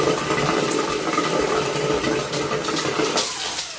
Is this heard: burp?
no